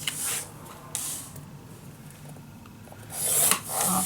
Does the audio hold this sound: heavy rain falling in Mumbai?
no